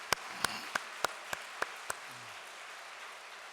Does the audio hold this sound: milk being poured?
no